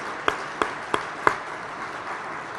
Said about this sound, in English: Have a round of applause for Kristen and the team.